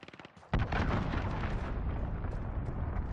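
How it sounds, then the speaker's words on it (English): A missile strike in Call of Duty lands with a sudden heavy blast after a short burst of gunfire, then a long roaring rumble that stays loud and close as it fades only slightly. "Missile away."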